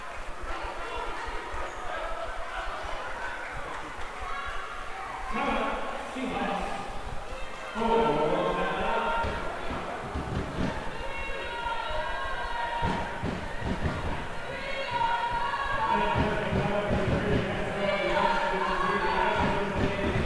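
High-school basketball crowd at a Bishop Gorman versus Redondo Union game, a steady arena roar and cheering beneath continuous play-by-play commentary, swelling louder in the second half, with occasional thuds from the court.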